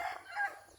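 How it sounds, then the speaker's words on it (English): A rooster crows faintly in the distance over open mountain pastures, a single brief call heard from a balcony, thin and quiet against a still background. "rooster."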